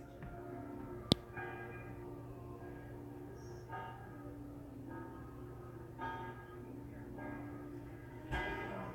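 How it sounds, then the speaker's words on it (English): Church bells ring faintly in the background of a quiet indoor room, a series of soft, spaced tolls with one sharp click early on. "Church bells ringing?"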